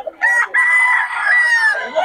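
A rooster crowing at a fowl market, one loud, close, drawn-out cock-a-doodle-doo lasting about two seconds, with a short clucking break near its start.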